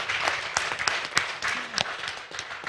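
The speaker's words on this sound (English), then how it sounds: "please join me once again in giving a round of applause to all of us" An audience at an embassies forum claps in a brief round of applause, scattered individual claps in a moderate-sized room, uneven and fairly faint, with a short voice passing underneath.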